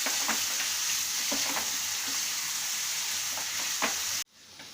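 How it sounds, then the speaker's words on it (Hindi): Chole masala base with tamarind juice frying in a pan: a dense, loud, steady sizzle with intermittent stirring scrapes, close up, which cuts off abruptly near the end. "ये अच्छा फ्राई हो गया है।"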